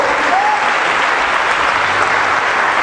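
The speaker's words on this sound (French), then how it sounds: "Oh, acclamons le Seigneur plus fort." A church congregation at a Sunday worship service applauds loudly and continuously, a dense, steady wash of clapping with crowd noise and no clear speech.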